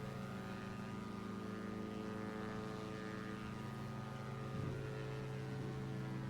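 A twin-engine Diamond DA62 climbing after takeoff in the X-Plane 11 simulator makes a steady, even propeller drone with a layered tonal hum that holds throughout, with no talk.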